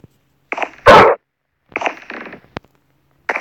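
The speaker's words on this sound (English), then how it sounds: "I'm making another dog now." A dog in the Minecraft video game gives a few short, sharp barks with gaps between them, fairly loud and close, with no talking over them.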